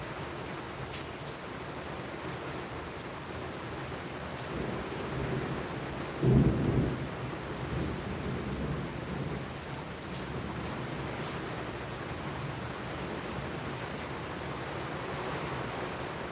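Steady heavy rain pours throughout a thunderstorm during Hurricane Milton at Punta Gorda, Florida, with a brief deep rumble of thunder midway rising over the constant hiss.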